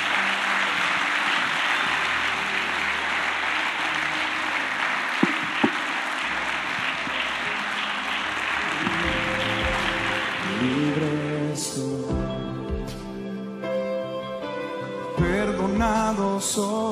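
Church congregation applause for the Lord during a Spanish-language worship service, broad steady clapping for about eleven seconds that fades as keyboard music and worship playing take over.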